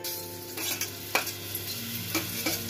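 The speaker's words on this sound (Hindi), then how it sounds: "कढ़ाई में रिफाइन डालकर मैंने डाला लहसुन" Steady sizzling of garlic frying in hot refined oil in a kadai, with occasional stirring scrapes and clatter, close up and with no talking.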